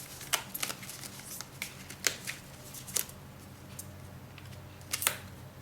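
Oracle cards being shuffled by hand, soft riffling bursts and crisp snaps recurring every second or so, close and fairly quiet.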